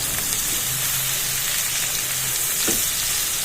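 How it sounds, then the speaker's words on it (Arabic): Vegetables seasoned with salt and black pepper sizzle steadily in a pan, a dense close frying hiss with a faint scrape or two as they are stirred. "هبتدي ان انا اقلب"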